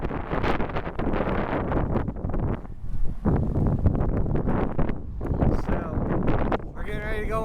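Strong gusting wind buffets the microphone in a continuous loud broadband roar that rises and falls throughout, with a brief whistling tone near the end.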